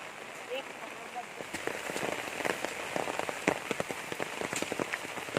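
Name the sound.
rain falling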